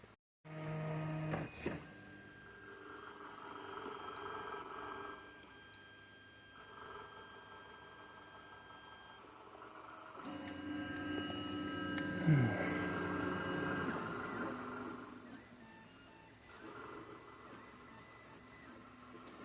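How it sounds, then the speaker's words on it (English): A 3D printer runs quietly, its stepper motors humming and whining in shifting tones with occasional ticks, no voices. "at least the printer works"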